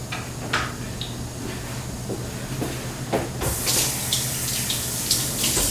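A kitchen tap runs steadily into a sink, a continuous close hiss of water that swells louder and brighter midway as the flow is turned up.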